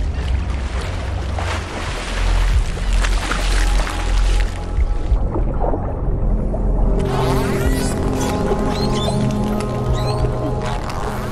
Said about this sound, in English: The sperm whale.